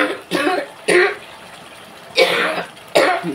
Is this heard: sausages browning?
no